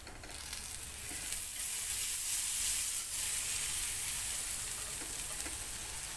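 Beetroot paratha tikki sizzles steadily in butter on a hot pan, a close, even hiss that swells slightly after the first second and holds for about six seconds with no voices.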